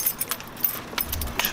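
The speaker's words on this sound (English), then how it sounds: "Should probably turn off the car." Car keys jangle in short metallic bursts as a car is switched off after arriving home, a close, irregular rattling with faint background noise.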